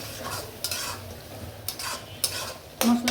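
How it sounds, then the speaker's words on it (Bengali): Spice paste of chili and turmeric fries for a beef liver curry, a soft sizzle under repeated scraping strokes of a spoon against the pan, close and intermittent. "মশলাটি আমি ভালো করে কষিব।"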